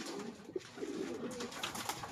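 A pigeon coos softly in short low notes against a faint outdoor background, fairly near but quiet.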